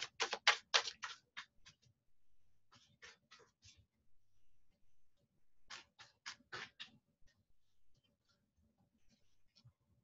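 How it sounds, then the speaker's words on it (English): Tarot cards are shuffled close by in a quiet room, making bursts of crisp riffling and flicking that come in three separate runs with pauses between them. "I'm gonna do one more shuffle"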